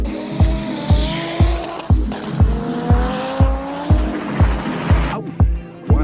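An Audi Quattro rally car races up the Pikes Peak hill climb, its engine screaming through rapid gear changes with a loud, regular pulsing of revs and shifts, close and unbroken by any talk.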